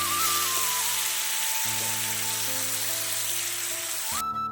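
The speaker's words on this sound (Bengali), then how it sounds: "পেঁয়াজ, আদা, রসুনের পেস্টটা দিয়ে আমার আলুটা ভালো করে কষানো হয়ে গেছে" Potatoes frying in a pan with onion, ginger and garlic paste, giving a loud, steady sizzle throughout, with a few tonal whines underneath.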